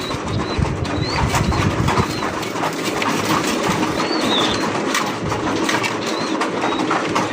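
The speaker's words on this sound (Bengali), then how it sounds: "এই যে দেখেন ব্ল্যাক কালারের মুন্ডি ব্রিডিং করতেছে, বিশাল বড় সাইজের মুন্ডি কবুতর" Big black Mundi pigeons breeding on a fancy pigeon farm coo in short repeated phrases, several calls spaced a second or so apart, over a steady loud rushing background noise, with no voices.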